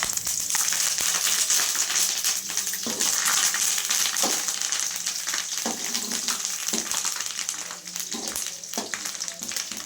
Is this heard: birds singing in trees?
no